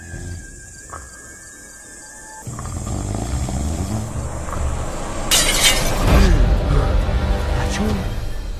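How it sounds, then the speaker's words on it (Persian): A glass cup shatters indoors at night, a sudden loud crash and breaking burst after a quiet stretch, followed by lingering noisy rumble. "یه صدای شکستن لیوان اومد"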